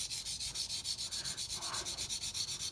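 A dull knife blade is pushed over a water stone with paste forming, giving a steady series of close rasping strokes, about seven each second, with no voices.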